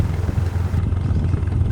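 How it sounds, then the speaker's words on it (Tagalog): A motorcycle engine braking while descending a newly paved mountain road in Batangas, a close, steady low rumbling drone with rapid pulsing throughout, without talk. "Kung naririnig nyo ang sound ng motor guys, iyan yung tunog ng engine braking kasi pababa tayo"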